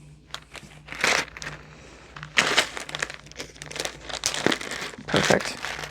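A resealable plastic bag of craft feathers crinkles close by in several bursts of rustling and crumpling, with quieter handling between them.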